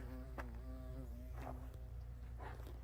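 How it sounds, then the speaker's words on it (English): A carpenter bee buzzes close by on a desert hiking trail in Arizona, a steady droning hum that swells in a few brief louder passes over low background noise, with no talking. "I believe that's a carpenter bee."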